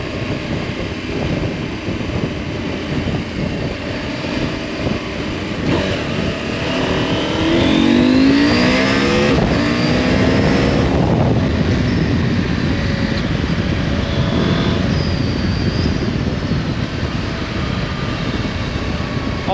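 A Husqvarna Norden 901 motorcycle engine surges loudly as the rider accelerates hard, the pitch climbing through several gears before easing back to a steady roar.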